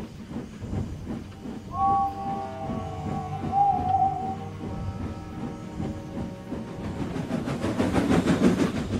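A steam engine rolling slowly into the engine sheds, with a rhythmic chuffing and rattling of wheels, a long whistle-like tone partway through, and a rising hiss of steam toward the end.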